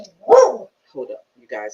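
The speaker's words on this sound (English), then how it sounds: "I'm sorry, my dog." A dog barks loudly near someone talking during a live online show, with one sharp bark followed by two shorter, softer barks spaced apart as he speaks.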